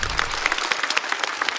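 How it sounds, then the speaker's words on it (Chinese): An audience at a stand-up comedy show claps in a brisk, dense burst of applause that fills a large room, steady and fairly loud throughout. "再次掌声送给王颖。"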